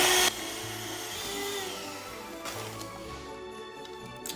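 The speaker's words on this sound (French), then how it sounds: "Et on va également les monter au batteur." Egg yolks and sugar being beaten with an electric mixer, a steady moderate whirr close by that shifts slightly in pitch as it works, with no talk.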